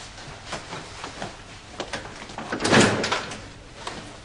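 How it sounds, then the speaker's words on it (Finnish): A door opening indoors, heard as a brief rattling and thudding burst near the middle, preceded by scattered small knocks and shuffling. "Ovi auki!"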